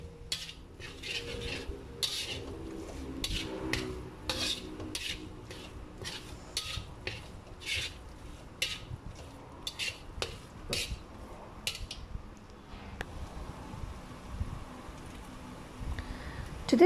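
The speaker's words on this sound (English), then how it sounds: "Now I'm going to add in some fish balls. These are the fried fish balls that I got from my local store." Fried fish balls go into a pan of stir-fried rice noodles, with repeated metal spatula clinks and scrapes against the pan in an uneven tossing rhythm at moderate closeness.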